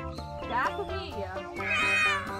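A person imitates a cat's meow during a playful game, with drawn-out wavering meows repeated close up among other voices.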